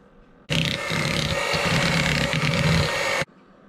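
Food processor whizzing caster sugar, starting abruptly into a loud, steady buzzing whir with gritty rattle, running about three seconds before stopping sharply.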